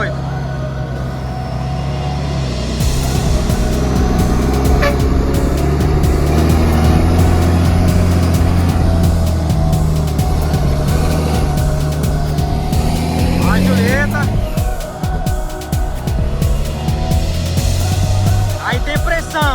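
A logging truck hauls a heavy timber load along a rugged dirt road in a forestry operation, its deep engine droning loud and steady with shifting revs, while people talk over it.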